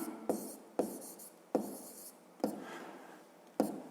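Pen writing by hand on paper during a school maths exercise, a series of short scratchy strokes with small taps between them, close and quiet, with no talking.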